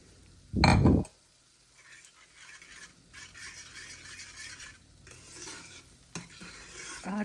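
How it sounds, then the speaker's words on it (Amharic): Beaten eggs hit a hot pan with a loud, brief sizzling burst, then settle into a steady frying hiss as they are stirred, with light scraping and clinks of the utensil against the pan. "እንቁላላችንን መጥበሻችን ላይ እናደርጋለን ማለት ነው።"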